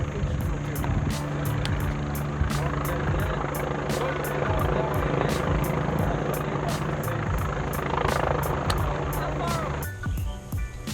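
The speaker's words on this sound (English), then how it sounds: "there's a helicopter flying" Helicopter flying over a mountain during a rescue, a steady rotor drone with rhythmic blade chop that holds throughout, fairly loud, then thins near the end.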